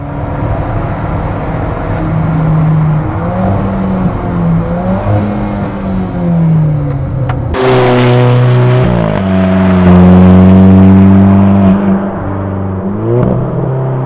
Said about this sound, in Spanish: El sonido de su motor.